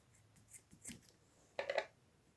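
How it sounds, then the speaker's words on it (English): Scissors snip through craft thread on a Minnie Mouse bowtie and ears rug project, giving a short crisp cut near the end after a couple of faint clicks, close and quiet. "I'm going to cut my thread"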